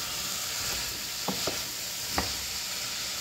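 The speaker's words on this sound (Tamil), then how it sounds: "பீட்ரூட்டை போட்டு 2 நிமிஷம் இதில் கொட்டினாங்க." Beetroot frying in a pan for Jaffna-style beetroot curry, a steady close sizzle with a few short scraping knocks as a spoon stirs through it.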